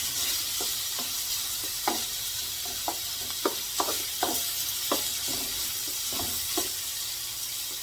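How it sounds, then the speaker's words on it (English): Sausage fries in a pan with a constant crackling sizzle, close by, punctuated by scattered pops and utensil taps. "I'm going to go ahead and put in my sausage and get that cooked"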